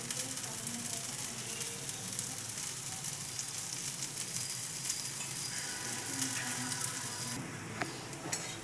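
Oil sizzles steadily on a hot pan for dosa, a constant close crackling hiss running the whole time with no talk.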